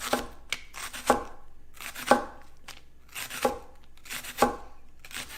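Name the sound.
knife cutting vegetables into thin slices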